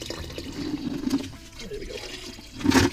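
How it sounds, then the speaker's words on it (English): Liquid solution poured into a container holding RAM sticks for copper recovery, a brief watery splash and trickle with a louder gush near the end. "I'm going to pour this liquid into here."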